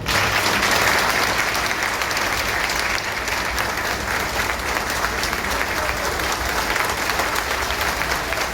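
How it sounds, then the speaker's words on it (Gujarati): A crowd at a political party booth-strengthening workshop in Ahmedabad gives a loud, sustained round of applause to welcome the chief minister. Dense clapping fills all eight seconds at a steady level, with a faint crowd murmur beneath. "એમના સ્વાગત માટે પહેલા જોરદાર તાળી."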